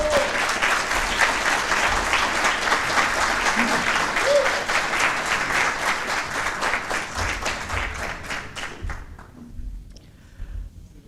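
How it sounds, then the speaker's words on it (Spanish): A strong round of applause from an audience at an official book presentation, dense steady clapping that thins into scattered claps and dies away near the end. "Por favor, un fuerte aplauso para Ignacio Bosler."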